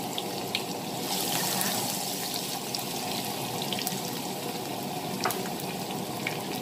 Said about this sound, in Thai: น้ำมันร้อนแล้วเราจะใส่กระเทียมลงไปค่ะ